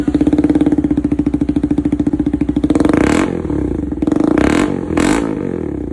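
A motorcycle exhaust fitted with a silencer thumps at idle in a fast, even pulse, then revs up in a few loud bursts before settling back, close and alone.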